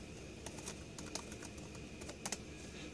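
Quiet close keyboard typing, a handful of light key clicks in short irregular bursts over faint room noise.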